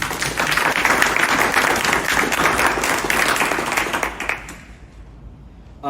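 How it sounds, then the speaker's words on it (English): Conference audience breaks into dense, loud, sustained applause that keeps an even intensity and then fades away over the last second or two. "So round of applause for them, even though they're not here."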